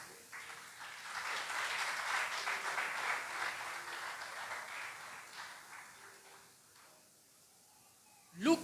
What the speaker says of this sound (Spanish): A su nombre, dale un fuerte aplauso al Señor.